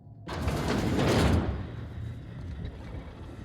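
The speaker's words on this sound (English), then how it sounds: "I'm opening the door" A door opens in the sci-fi video game The Outer Worlds with a sharp mechanical onset followed by a loud sliding whoosh that fades into a lingering low hum, heard alone.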